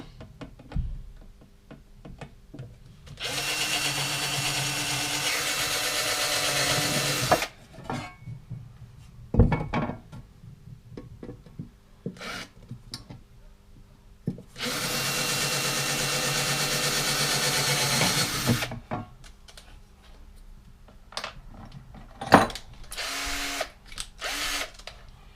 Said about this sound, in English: Pilot drill.